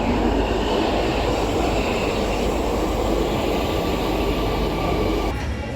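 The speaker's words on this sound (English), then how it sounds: "I'm getting one last metro though from Rokin station." An Amsterdam metro train rumbles at Rokin station, a loud, continuous low roar of wheels and motors in the underground tunnel with a steady rushing hiss, easing slightly at the end, and no talk.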